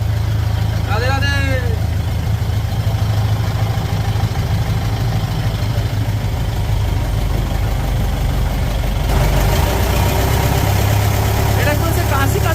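A motorboat engine drones low and steadily through a river boat ride near the ghats of Mathura, loud and constant from start to finish. A voice briefly speaks over it early on.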